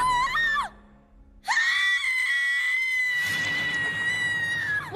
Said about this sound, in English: the scream that Stella lets out after this was really, really good